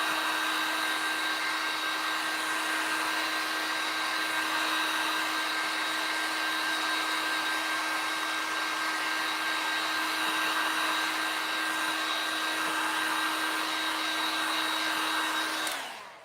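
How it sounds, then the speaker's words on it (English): A heat tool blows steadily to dry a craft project, a loud, continuous whirring hiss with a constant motor whine that runs alone for about sixteen seconds and cuts off at the end. "that dries really quick on its own, but I just hit it with the heat tool"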